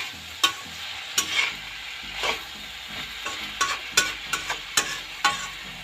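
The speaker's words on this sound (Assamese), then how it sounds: "ভালদৰে আকৌ এবাৰ লৰাই দিম।" Vegetables with tomato, cooking as a bhaji of taro in a pan, are stirred with a utensil; sharp scraping knocks recur irregularly over a low, continuous sizzle, close and moderately loud.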